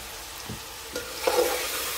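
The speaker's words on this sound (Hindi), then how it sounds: "अब मैंने तकरीबन इसको जो है ना 15 मिनट भूनना है तीनों चीज़ों को" Chicken, tomato and spices including whole cumin, cinnamon stick and cloves frying in a pan, a low steady sizzle with a few soft stirring knocks.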